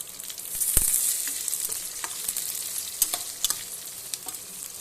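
Onions sautéing in a pan for pepper jeera rice: a soft, continuous sizzle broken by sharp spatula scrapes and clicks as they are stirred, close by.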